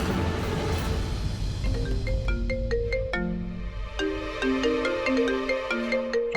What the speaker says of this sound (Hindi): राधिका की माँ का फोन